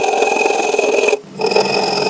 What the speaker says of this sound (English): I just run a cut straight down the middle of the waist, then I go through and cut everything out to the left